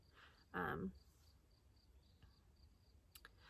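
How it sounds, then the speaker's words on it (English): Crickets chirp steadily and faintly in a quiet forest at night, with a brief bird call breaking through near the start. "Now you can only hear crickets and some birds right now."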